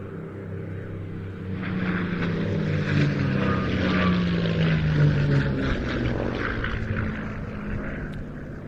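A P-51 Mustang in 78th Fighter Group colours flies past at an airshow, its piston engine and propeller droning steadily with a pitch that slides down as it passes, moderately loud and alone.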